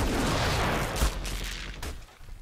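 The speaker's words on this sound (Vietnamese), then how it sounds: "kích hoạt EMP kìa vụ nổ mà kiểu làm cho mấy cái ờ, thiết bị điện tử đó, nó vô hệ vô hiệu hóa của nó không sử dụng được" A loud, dense burst of explosive booms and rumbling blasts from an EMP activation in the ARK survival video game, with a sharp impact near the middle before the noise thins out.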